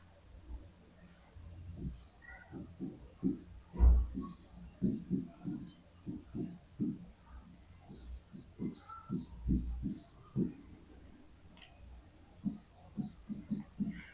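A marker writing on a board in a Class 11 history lesson: squeaky, rhythmic strokes with short pauses between them, close and clear, with no talking.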